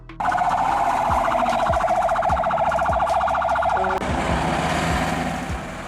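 Water tanker fire truck running its siren, a loud rapidly warbling wail held steadily for several seconds over a rumbling engine, close by and with no talk.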